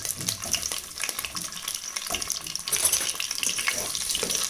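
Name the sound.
eggs and meatballs frying in a pan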